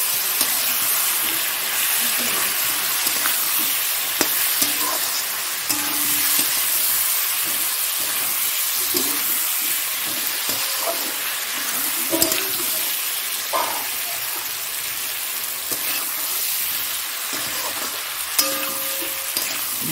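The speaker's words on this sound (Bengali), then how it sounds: "পেঁয়াজটা একটু বেশিই হয়ে গেছে, ভালো করে কষিয়ে নিই" Onions cooked down with a pinch of sugar for a rohu fish curry, sizzling loudly in hot oil in a pan while a spatula stirs and scrapes repeatedly, a constant close frying hiss with knocks.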